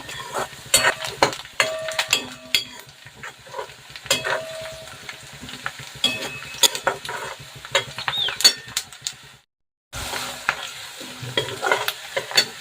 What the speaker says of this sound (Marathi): लालसर रंग येईपर्यंत मी परतून घेतलेला आहे